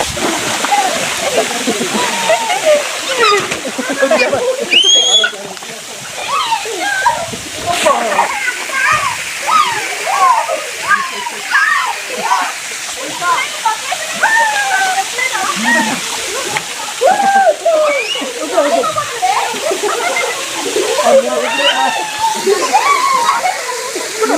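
Gandahathi waterfall in Gajapati district, Odisha, gives a steady, loud, close rush of falling and splashing water throughout, with children and adults talking over it.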